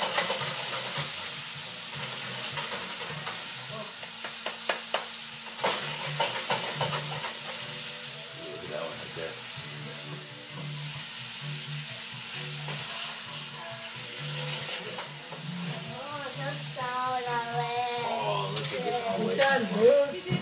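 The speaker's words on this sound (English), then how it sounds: "Just kind of get a minute and a half on each side of all the shrimp. Saute it around." Shrimp sautéing in a pan for tostadas, a steady close sizzle and hiss running throughout with occasional stirring clatter and scraping, plus a faint voice in the background near the end.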